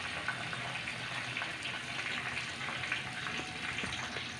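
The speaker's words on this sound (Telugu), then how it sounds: "కరివేపాకు ఎట్లా వేగినాక ఆయిల్లో" Curry leaves frying in hot oil give a steady, soft sizzle and crackle throughout, with scattered small pops and no voices.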